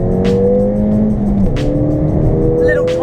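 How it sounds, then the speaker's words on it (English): A Ford Fiesta ST 200 accelerates hard from 30 mph, its engine note climbing steadily in pitch, dropping briefly at a quick gear change, then rising again, loud and close from inside the car. "30 miles an hour, accelerate."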